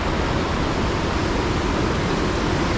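Surf breaking along the rocky, sandless coast of Pidakan beach in Pacitan, a loud unbroken roar of churning water filling the whole moment, no voices.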